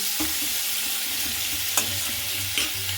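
Shrimp frying in a wok with mustard oil gives a steady, loud sizzle, with a few sharp scrapes and clinks as it is stirred. No one speaks.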